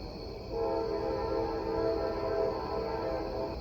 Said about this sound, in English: hear the dulcet tone of the passing train